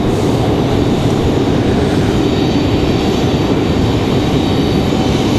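An American Airlines jet from Dallas/Fort Worth taxis at Raleigh-Durham International Airport, a loud, steady broadband jet engine roar that holds constant throughout.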